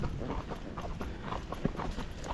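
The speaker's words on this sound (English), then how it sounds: "he's got a 4-beat footfall, he's flat walking" Hoofbeats of a gaited Rocky Mountain Horse in a four-beat flat walk on a trail, an even, steady clip-clop of footfalls at moderate loudness with no voices.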